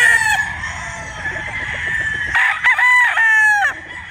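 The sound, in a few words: gamefowl rooster crowing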